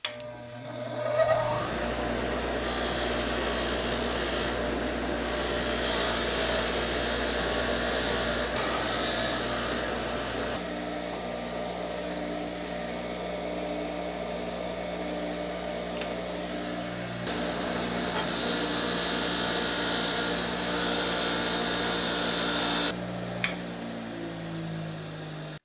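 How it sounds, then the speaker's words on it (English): A bench grinder's wire wheel whirs steadily while cleaning an old vintage hammer head, with a continuous loud buzzing hum and shifts in pitch as the metal is pressed against the brush. "With just a little bit of work on that wire wheel, you can really clean these beautiful old vintage tools up."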